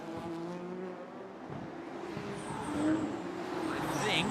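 Race cars circle a street circuit at Vila Real in a touring car race, engines droning at a distance and rising as they pass, with a commentator's voice running over the track noise.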